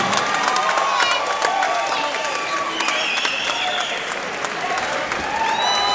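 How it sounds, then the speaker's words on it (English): Crowd at an MMA event at the PCYC hall cheering and clapping through the closing seconds of a round, a dense, lively wash of applause with shouts and whistles rising over it, while commentators talk in between. "Crowd here at PCYC, the Rang really enjoying this. And they've come to life."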